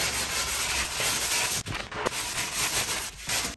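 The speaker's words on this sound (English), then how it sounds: "lightly come over with the sanding block. Remove any of the hot glue that's come out." Close, continuous rasping of a sanding block rubbed back and forth along edge banding to remove hot glue, pausing briefly twice before resuming.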